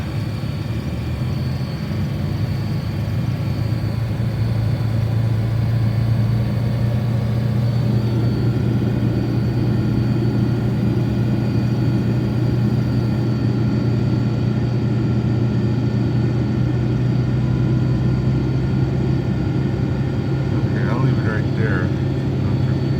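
Dodge Ram 2500 diesel truck engine after a cold start at minus twenty degrees, a loud continuous low rumble that steps up in pitch as the revs rise and then holds steady throughout.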